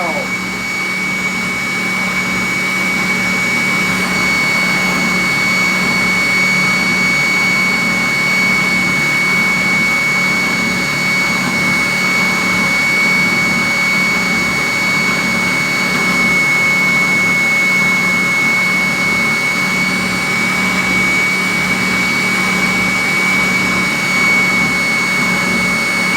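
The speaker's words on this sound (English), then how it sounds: "We're going to put it on this sander and cut it down." A bench sander grinds down a metal pistol trigger guard in a workshop, a loud, steady whirring roar with a constant high whine that runs unbroken throughout with no pauses.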